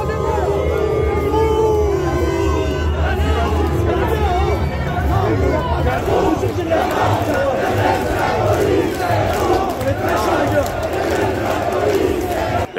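A dense crowd at an anti-racism protest march, loud chanting and shouting voices over constant hubbub and chatter, filling the whole stretch close and unbroken.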